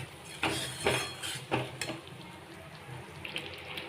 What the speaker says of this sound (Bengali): আর সঙ্গে ধুয়ে দিচ্ছি 2টো কাঁচা লঙ্কা